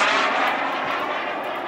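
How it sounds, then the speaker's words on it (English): Global Aerofoam L-39 Albatross RC jet with a KingTech K-60 turbine flying at a jet rally in Hemet, a loud steady turbine whine and roar passing overhead, fading slightly. "These L-39s all fly great."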